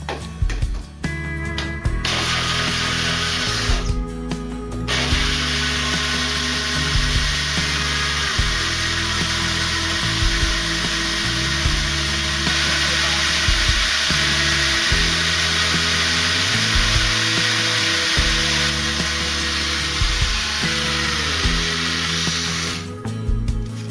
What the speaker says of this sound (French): Alors on installe la lame. Et on va mixer.